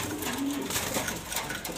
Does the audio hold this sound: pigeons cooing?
yes